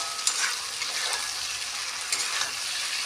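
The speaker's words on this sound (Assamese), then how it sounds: "এইখিনি এতিয়া আৰু অলপ মই ভাজিম" Steady sizzling of food frying in a pan, a continuous crackling hiss with occasional stirring scrapes, close and fairly loud, no voices.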